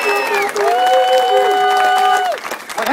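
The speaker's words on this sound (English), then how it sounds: "So please give these people a round of applause" Audience applause from a crowd, a dense continuous wash of clapping with cheering and whooping voices riding over it, steady and fairly loud throughout before thinning at the end.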